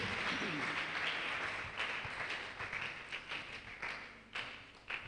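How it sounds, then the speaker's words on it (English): Audience applause at a green chemistry and sustainability workshop session, a steady wash of clapping that holds strong then thins into scattered claps near the end. "Can we give them a big round of applause?"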